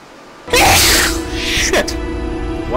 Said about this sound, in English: Coughing and sneezing.